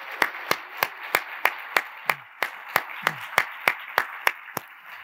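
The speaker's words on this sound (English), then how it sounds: "let's give a big round of applause to our entire staff who made the night possible" Applause at a university foundation's 125th anniversary dinner: sharp, evenly spaced claps at about three per second, crisp and close, with a faint murmur beneath.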